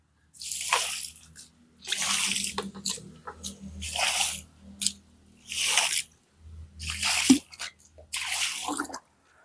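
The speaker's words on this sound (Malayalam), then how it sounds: "ഒന്ന് വെള്ളം ഒഴിച്ച് കാണിച്ചു തരാൻ" Water is poured onto a terrace floor in about six separate pours, each a short rushing burst with quiet gaps between, close and fairly loud.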